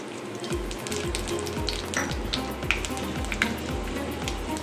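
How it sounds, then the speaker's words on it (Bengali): Dried red chillies and whole tempering spices fry in hot oil with a steady, close sizzle and crackle, scattered sharp pops and scraping stirs running throughout, no voices. "আমি ওই তেলে দিয়ে দিচ্ছি শুকনো লঙ্কা আর"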